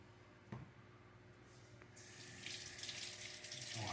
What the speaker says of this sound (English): Watch me wash my hands.